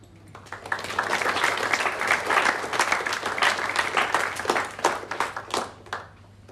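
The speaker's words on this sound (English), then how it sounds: "we will give you another round of applause" Sustained applause and clapping from an audience at a school sports awards ceremony, a dense steady patter filling the room before thinning into scattered individual claps toward the end.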